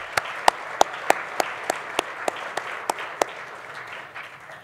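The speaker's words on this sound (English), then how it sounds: "So I'd like to have a big round of applause" Sparse, evenly spaced claps from a colloquium audience, a dozen distinct sharp hits in a slow rhythm over a soft background wash, thinning out and fading near the end.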